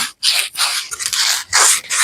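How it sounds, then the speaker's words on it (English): Someone sands the hole in a wooden whiskey smoker by hand, making close, scratchy rasping strokes in a rhythmic series with brief pauses between passes. "Do a little sanding on the hole"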